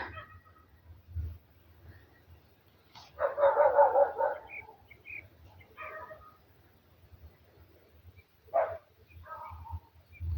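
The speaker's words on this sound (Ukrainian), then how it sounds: "такі сільські звуки, собаки, жаби вже попросинались" A dog barks in a short burst, then a few scattered yips and barks follow at a distance against a quiet village night background.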